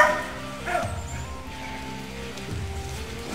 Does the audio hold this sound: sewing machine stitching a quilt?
no